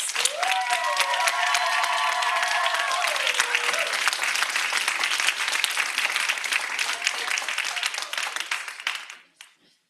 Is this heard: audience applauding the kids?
yes